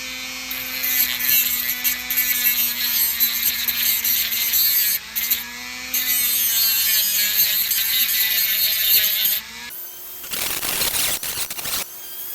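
A Dremel rotary tool cuts during a Kubota RTV repair, giving a loud, steady high-pitched whine with slight pitch wavers for about ten seconds before it stops and rougher handling noise follows.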